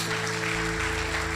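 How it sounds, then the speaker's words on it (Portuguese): An audience claps at a church congress, a brief, even wash of applause over a low sustained organ-like hum. "Você pode dar um forte aplauso por isso?"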